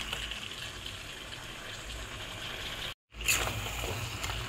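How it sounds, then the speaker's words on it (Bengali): Water is poured into a pot of deshi chicken curry (chicken kosha) as a steady, close rushing gush that cuts out briefly, then resumes a little louder and carries on evenly. "আর একটু কষানো হয়ে গেলে আমি এর মধ্যে জল দিই।"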